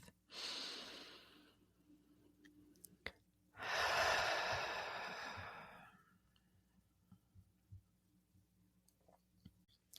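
Two slow, deep breaths during a guided meditation: a long airy inhale followed by a fuller, extended exhale, close and soft, with quiet clicks in the pauses.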